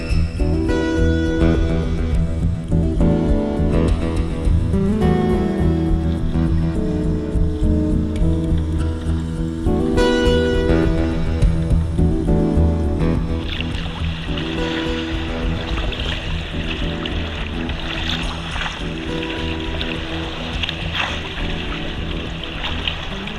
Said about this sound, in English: the huge dumping waves that can be seen and heard over 10 kilometres away